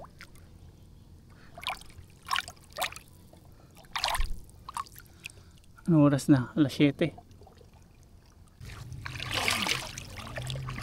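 Water splashes during a swim in clear sea water, a broad rushing burst near the end of the clip after stretches of close conversation.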